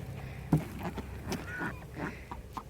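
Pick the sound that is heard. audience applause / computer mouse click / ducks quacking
ducks quacking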